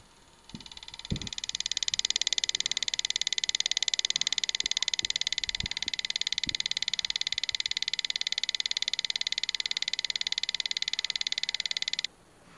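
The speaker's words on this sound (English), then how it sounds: "This sound means we are driving the common rail injector." CR1900 tester driving a common rail injector, a steady high-pitched electronic buzz that starts abruptly, holds evenly for about eleven seconds, and cuts off, with faint low knocks underneath.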